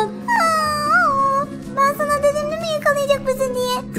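A dog in the Hello Neighbor video game whimpers and whines in a series of high, wavering cries, some drawn out and some short, sounding close over a steady low hum.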